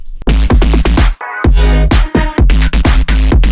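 Synth chord samples from a sample pack, played as loud, full, bass-heavy stabs in a fast choppy rhythm with short gaps between hits, heard alone without any voice.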